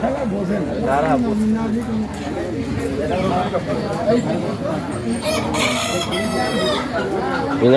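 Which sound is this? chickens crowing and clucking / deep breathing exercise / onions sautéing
chickens crowing and clucking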